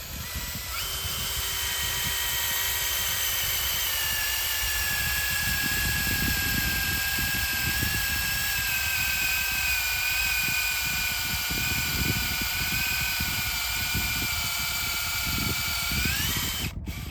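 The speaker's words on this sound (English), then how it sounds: "I'm going to go ahead and lubricate the auger again before I continue drilling" A power auger drills steadily into silt loam soil during a soil sensor install, a loud continuous motor whine with a rising tone and rumbling grind running the full length before cutting off at the end.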